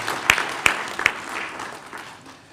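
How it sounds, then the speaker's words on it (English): Brief applause from the audience at a Kenyan police roundtable meeting, a few distinct loud claps over a thin wash of crowd clapping that fades within seconds. "Let's give Honorable Tongoyo a bigger round of applause."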